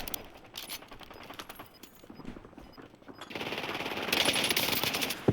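Dresden rifle fire in the Call of Duty Warzone video game, rapid bursts of gunfire at moderate distance, growing louder and denser toward the end.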